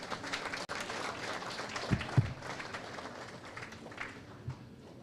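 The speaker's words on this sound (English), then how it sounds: "So I want to give you guys a round of applause for that. Please put your hands together." Audience applause at a chapter launch event in South Florida, a steady wash of many hands clapping at moderate distance, with a few louder claps standing out near the middle and no talking.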